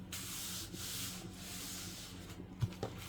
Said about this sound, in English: I'm going to rub it on down.